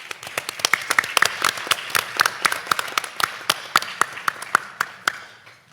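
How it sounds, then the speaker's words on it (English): Audience at a panel event on transgender women's history gives a small round of applause, distinct individual claps close by in an uneven patter that thins out toward the end. "So a round of applause for that group."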